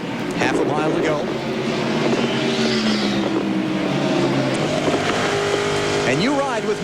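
NASCAR Craftsman Truck Series trucks race on the final lap, a loud, sustained engine roar with rising and falling pitch sweeps as trucks pass. A commentator talks over it throughout.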